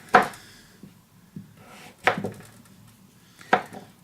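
A knife cuts through firm butternut squash onto a board in three crisp, separate chops spaced about a second and a half apart, each a sharp close thunk with a short ring and quiet pauses between.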